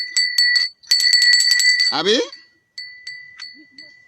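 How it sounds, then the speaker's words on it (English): Bright metallic bells ring in quick repeated bursts, joined briefly by a voice calling out, then a few more spaced rings trailing off. "Now today you see me with bells."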